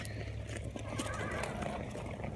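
Horses at lunchtime whinny loudly and close, with hoof clops and stable bustle around them for a couple of seconds.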